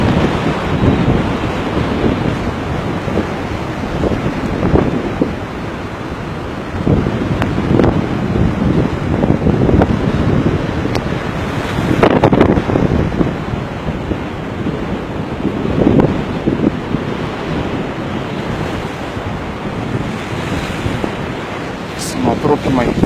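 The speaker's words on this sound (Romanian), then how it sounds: "că sunt valuri mari" Big winter sea waves crash on the shore at Costinesti, Romania, in a loud, continuous roar of surf with heavy wind buffeting the microphone and surging breaker swells every few seconds.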